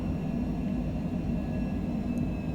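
Steady jet engine roar of a Longitude business jet in Flight Simulator 2020 climbing out of Heathrow, a constant low drone with a faint high whine, loud and unbroken, no talking.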